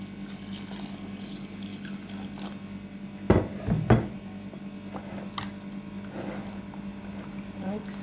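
Liquid poured into a Jamaican cornmeal pudding mixture, a brief splashing pour of a few seconds mid-clip over a steady low kitchen hum, with no talk.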